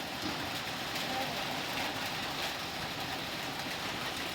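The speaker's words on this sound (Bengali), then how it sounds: "বৃষ্টি হচ্ছে, বৃষ্টির পানি ভিজতেছে আর হচ্ছে কি টিন দিতেছে" Steady dense patter of rain drumming on a tin roof, a constant hiss with no pauses, fairly close and even throughout.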